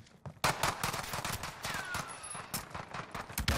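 Pistol fire in the Call of Duty Cold War video game, a rapid, loud burst of repeated shots with short irregular gaps, close and dominant.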